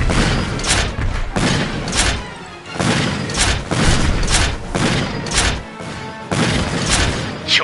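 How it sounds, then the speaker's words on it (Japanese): Repeated heavy booms and thuds of cannon fire during a naval sea battle against the Navy in the PS4 VR game One Piece Grand Cruise, loud bursts following one another in an irregular rhythm with little pause between them. "大砲弾、"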